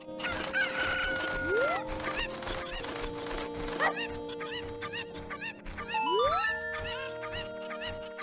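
Chickens cluck and a rooster crows repeatedly in a village pen in the Zelda Ocarina of Time video game, with bright synthesized game music tones and rising chimes playing alongside the birds throughout.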